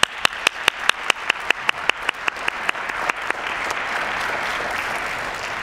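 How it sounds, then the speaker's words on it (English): Audience applause at a racialized minorities recognition ceremony, honoring the parents: a few loud, distinct claps at first, then steady clapping that builds into a dense wash of applause. "can we give them a round of applause?"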